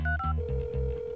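A phone dials a number with a quick run of short electronic tones, then a steadier repeating tone pattern like a call signal, close and clear, with no talk.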